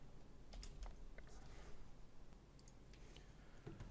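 Quiet typing of an email on a computer keyboard, a continuous patter of light key clicks at an even pace, faint and close with no voices.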